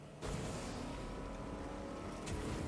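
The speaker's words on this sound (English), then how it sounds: "Boats work just as well on the road." A boat's motor drones steadily in Fortnite as the boat is driven across a road rather than water, a continuous low engine rumble with a brief surge near the end.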